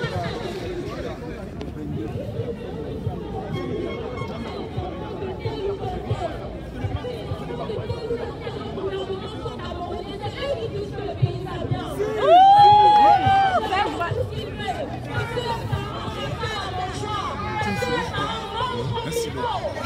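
A street protest crowd in Paris fills the air with dense chatter and overlapping voices, with whistles and a brief rise of shouting midway, steady hubbub throughout.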